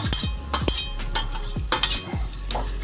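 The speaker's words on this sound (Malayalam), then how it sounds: "നല്ലതുപോലെ ഇളക്കി എണ്ണയിൽ കിടന്നൊന്ന് പാടിയതിന് ശേഷം" Dried mango pieces are stirred with a spoon in hot oil with ginger and garlic, a close steady sizzle broken by repeated scraping and clinking strokes against the pan.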